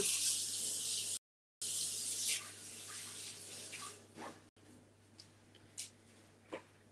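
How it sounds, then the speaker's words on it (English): Tap water runs over an ink roller being washed in a sink, a loud steady hiss that breaks off and resumes, then tapers into quieter splashes and drips. "I'm going to wash my roller and ink up this one in black"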